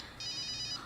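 A cellphone ringtone sounds in a home setting, a brief high steady electronic tone, fairly faint against a quiet background.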